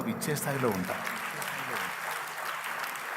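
An audience at a Telugu Christian sermon claps in a dense, steady burst that rises just after a voice speaks at the start and carries on to the end.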